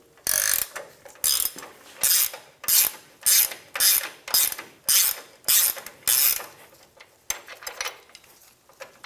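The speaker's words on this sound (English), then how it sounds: "Using two 22mm wrenches, we're going to remove the nut off of the steering rack bolt." Two 22mm wrenches work a nut off the steering rack bolt of a 2000-2006 Toyota Tundra. They give a close, regular series of about ten rasping ratchet-like clicks and scrapes, each lasting around half a second, with brief pauses between them.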